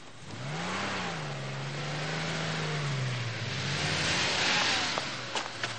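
A car engine revs up and pulls away, its pitch rising then sliding lower as it recedes, over steady broadband road and wind noise, with faint clicks at the end.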